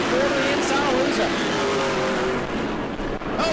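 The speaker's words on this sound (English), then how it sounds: "Connor Jones turns car 44 off of turn 4 to the inside of Luza" Pro Late Model race cars roaring around the New Smyrna oval during a race, loud sustained engine drone with shifting pitch and a brief tire squeal, under excited commentary.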